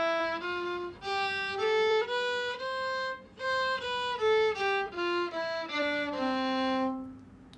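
Ionian mode scale, reached by lowering the fourth note of Lydian, played solo as clear single notes stepping up and then back down at a moderate, even pace.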